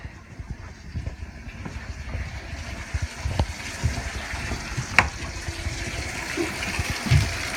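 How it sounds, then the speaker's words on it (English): Water rushing steadily through the plumbing of a cabin once the air has been purged from the lines, a continuous gushing hiss heard close up with a few faint knocks. "it quit spitting out air and started running water"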